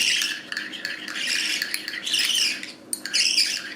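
Budgies chattering and squawking at close range, a dense run of raspy chirps and scratchy calls in bursts with brief pauses, fairly loud, with no talking.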